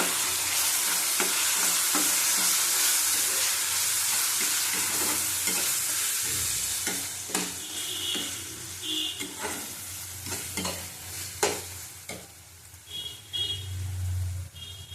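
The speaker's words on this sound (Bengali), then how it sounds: "ভালো করে কষিয়ে নেব" Lote fish masala with Kashmiri chili powder sautéed in a pan: a steady sizzle, then repeated sharp spoon scrapes and knocks in an uneven rhythm, close up, without speech.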